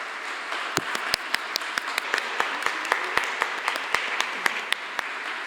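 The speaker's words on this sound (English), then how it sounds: "So please give my colleagues huge applause from all around the region." An audience at the closing session of a Baltic maritime spatial planning forum claps steadily throughout, with a few sharper individual claps standing out above the applause.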